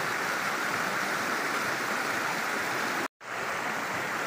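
Continuous broadband rush of river water flowing during a crossing near Calao Falls in Mayantoc, steady and fairly close, with a brief dropout near the end.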